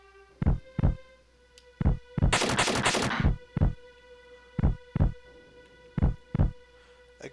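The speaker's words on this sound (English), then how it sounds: "I don't like that heartbeat." A slow, steady heartbeat thuds in Final Fantasy 7, deep paired beats repeating at an even rhythm over a low hum, briefly interrupted by a loud burst of noise in the middle.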